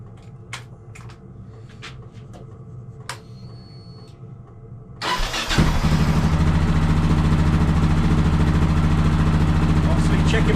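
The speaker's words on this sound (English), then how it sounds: "And then we've got to fire the bike up. And basically just carefully rev it half a dozen times" A Yamaha XT660 motorcycle engine is fired up after an oil and filter change, cranking into a loud, close, steady idle after a few seconds of quiet clicks and handling noises.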